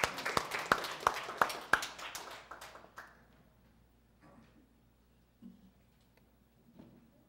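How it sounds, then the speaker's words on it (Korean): Scattered hand claps from a small audience greeting a singer at a lecture gathering, a handful of sharp claps in the first three seconds that thin out and fade into near quiet. "우리 큰 박수로 맞이해 주시기 바랍니다"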